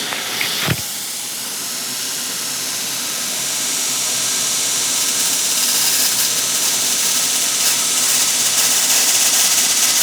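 A spinning wheel works a brass sword hilt, giving a steady broad hiss that slowly swells louder and stays close and continuous, with one brief knock near the start and no voices.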